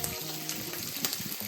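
Green chillies and onion fry in hot oil in a village kitchen while making poha, a close, steady crackling sizzle with small pops and a few stirring knocks.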